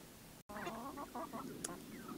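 A small flock of chickens huddled in the shade beneath a homemade tractor on a hot day, giving soft, faint clucks and murmurs in short, irregular bursts.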